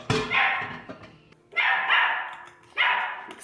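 A dog gives three separate barks in a home kitchen, each loud and close, spaced roughly a second apart, with quiet gaps between.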